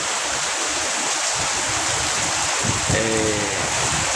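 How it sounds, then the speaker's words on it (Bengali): Steady heavy rain pours down in a constant broadband hiss, with a brief low rumble and a faint tonal sound near the end; no voices. "10টা থেকে বৃষ্টি শুরু হয়েছে।"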